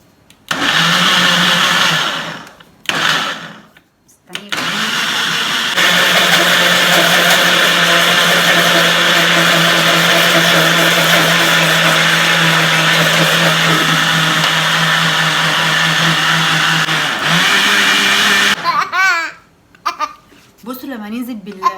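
An electric mixer beats cake batter while oil is poured in gradually. After a few short bursts, it settles into a loud, steady whir that runs without a break for most of the clip, then cuts off near the end.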